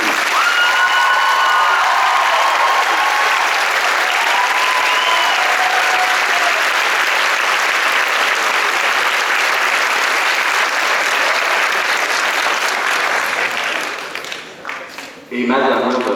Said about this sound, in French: d'applaudir toutes ces personnes.